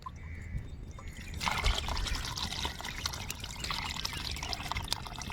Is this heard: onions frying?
no